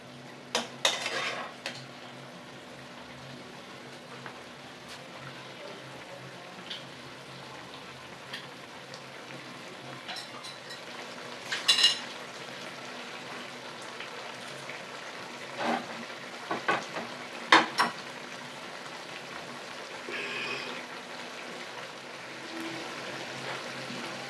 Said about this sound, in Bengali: এই তেল ঝালটা হয়ে এসছে, একটু ভালো করে নেড়ে দিতে হবে।